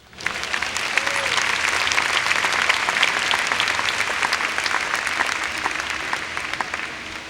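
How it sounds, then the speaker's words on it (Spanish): Sustained applause from a church congregation, dense and steady clapping throughout, fading slightly toward the end. "Vamos a darle un aplauso al Señor."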